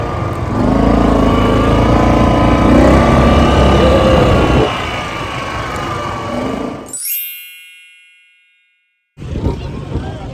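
A desert safari dune bike in Dubai drones steadily with a rough engine note for several seconds, then cuts out into near silence before a faint metallic ding and background noise return.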